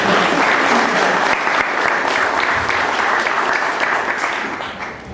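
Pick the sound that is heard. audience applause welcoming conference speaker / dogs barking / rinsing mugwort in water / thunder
audience applause welcoming conference speaker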